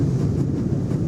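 A train rumbles along at full speed in a video game, a steady, heavy low-pitched roar and rattle heard from close by, unbroken and loud.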